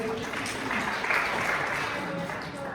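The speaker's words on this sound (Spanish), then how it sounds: "Muy bien, un aplauso para ella." A crowd claps steadily for a few seconds, dense and even, with faint voices mixed into the applause.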